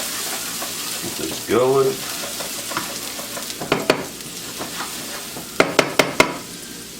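Finely diced onion and garlic sizzle steadily in a hot pan, with a spoon scraping and tapping against the pan in short bursts and a brief spoken remark partway through.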